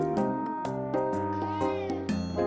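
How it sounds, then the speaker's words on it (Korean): Repeated plaintive meows from a cat, several drawn-out calls in close succession, loud and near with no other sound around them. "아기 고양이들은 어미 고양이에게 울음소리를 내어 자신의 상태를 알리고"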